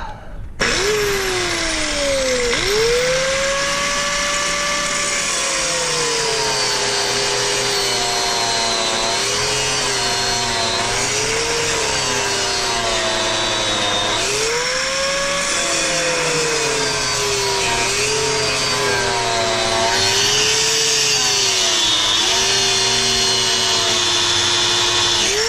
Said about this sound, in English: And I got my grinder.